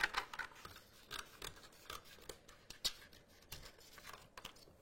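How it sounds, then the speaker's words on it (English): Scissors snip away excess vinyl backing from a Cricut project, a series of crisp close cuts with some paper crinkling between them. "I'm going to grab my scissors, cut off this excess backing"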